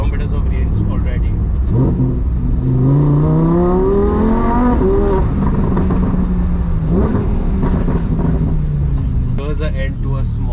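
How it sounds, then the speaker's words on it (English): A Lamborghini Huracan pulls in fourth gear with a loud, continuous engine drone that rises and falls in pitch through acceleration, as someone talks over the noise. "Was an end to a small drive of the Lamborghini Huracan, which was just too good."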